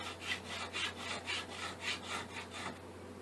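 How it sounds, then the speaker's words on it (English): A mill file is pushed across the edge of a guitar pickguard in steady, rhythmic rasping strokes, about ten of them close together and faint, before it stops. "I can go to a mill file, which just has straight lines across it. A little smoother cut."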